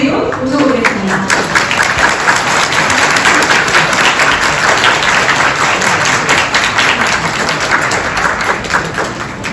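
A conference audience at COEX in Seoul gives warm applause as an economics professor is welcomed onto the stage, a loud, dense, sustained clapping that fills the room without letup and fades slightly at the end.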